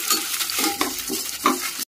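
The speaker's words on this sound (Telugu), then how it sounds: "ఎండుమిరపకాయలు వేస్తున్నాను" Dried red chillies drop into hot oil in a pan with a short burst of sizzling and stirring scrapes, close and fairly loud for under two seconds.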